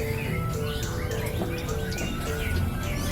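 A green leafbird sings at a songbird contest, pouring out a dense run of varied chirps and whistles over a busy background of other birds and crowd murmur.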